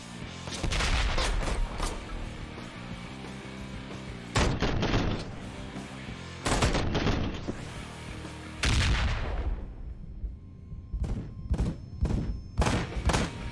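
Dynamite explosions in the video game Ride to Hell: Retribution, several loud booming blasts arriving in irregular bursts, some close together and others spaced apart, with rumbling tails between them and a cluster of sharper hits toward the end.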